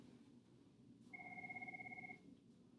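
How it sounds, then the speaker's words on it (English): A mobile phone rings indoors with a steady electronic two-tone ring lasting about a second, clear and fairly close over a low room hum. "My phone is ringing right now."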